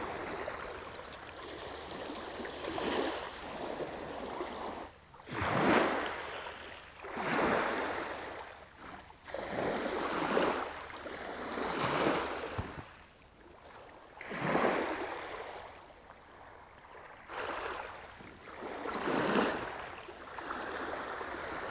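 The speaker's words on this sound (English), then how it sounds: "small waves lapping on the shore from Kattegat onto this shingly beach bordered by this astonishing mature beach woodland" Small waves lap onto a shingle beach on the Kattegat shore, edged by mature beech woodland; regular soft washes of water over stones rise and fall every couple of seconds, close and steady, with no voices.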